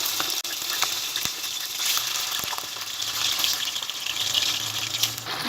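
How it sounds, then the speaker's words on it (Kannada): Chicken liver sizzles in hot oil for a pepper fry, giving a loud, steady, close crackle with occasional sharper pops. "ಈ ಎಣ್ಣೆಯಲ್ಲಿ ಲಿವರ್ ಹಾಕ್ಕೊಳ್ಳೋಣ"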